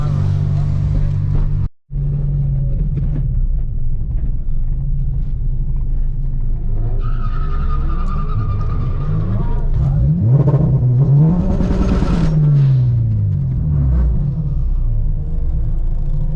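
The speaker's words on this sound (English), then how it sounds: "A lot of wheel hop." A bolt-on Acura RSX launches down a drag strip with wheel hop, its engine rumbling and then revving hard with rising and falling pitch, loud and close, briefly cut by a dropout early on, with voices around.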